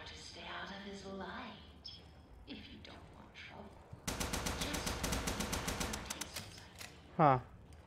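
Rapid gunfire from a gun aimed at a projector in the video game Bendy and the Ink Machine, a fast dense burst of close, loud shots lasting a few seconds, preceded by speech and followed by a short whooshing squeal.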